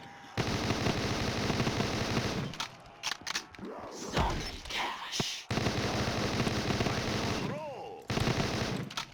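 Video game gunfire from a weapon in a Pokémon-themed shooter crackles in rapid automatic bursts, broken by short pauses and a few sweeping effects. A brief spoken word slips in among the shots.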